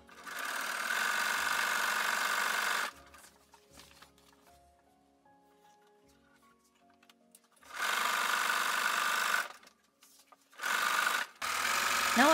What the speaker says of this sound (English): I finish the top edge of the skirt by turning the seam allowance in and top stitching near the edge.